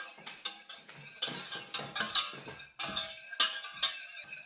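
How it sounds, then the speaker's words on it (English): A utensil stirs a mixture in a bowl just after an egg has been added, giving a steady run of scraping, clinking strokes at close range with no talk over it. "Now stir it,"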